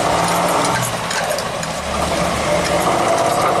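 A 1985 Jeep CJ-7 Renegade with an off fuel mixture drives along, its engine droning in a loud, steady, close rumble with faint road noise.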